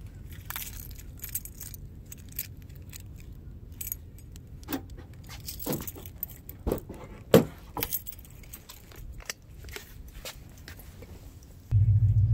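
A set of car keys jangles in a series of short metallic bursts over a low rumble inside a custom LSX-swapped Chevelle, ending with louder engine or road noise; no talking.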